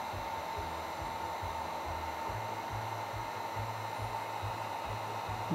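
A heat tool blows hot air steadily over a wet acrylic pour painting, a constant loud broadband whoosh with a low motor rumble underneath, running without a break and without talk.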